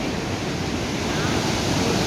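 The Iguaçu waterfalls in Brazil pour down among dense forest, giving a steady, broad roar of falling water that fills the whole clip, loud and continuous with some wind buffeting.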